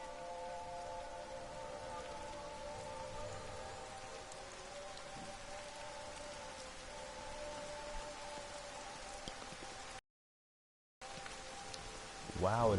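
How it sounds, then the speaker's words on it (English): Rain falls in the video game Everybody's Gone to the Rapture, a soft, steady hiss of rainfall under faint sustained ambient tones. A brief silent gap comes near the end, followed by a short rising vocal sound. "Wow, it is raining."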